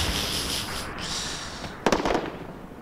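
A burst of rapid gunfire in the military shooter Arma 3, with a SPAR-17 rifle, cracks over a steady background hiss. A short cluster of sharp, loud shots comes near the end, and no one talks.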